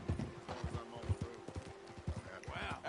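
Hooves clip-clop quickly from a horse in Red Dead Redemption 2, a dense trotting rhythm beneath voices talking throughout.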